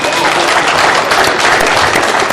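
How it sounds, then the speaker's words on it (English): Audience applause at an MLK teen takeover weekend event, a dense, steady wash of many hands clapping at close range, filling the short moment without letup. "Let's give them a round of applause."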